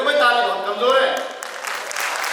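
Thin, weak audience applause at a devotional gathering; it begins under a tonal voice and turns into a steady patter of light clapping over the last second.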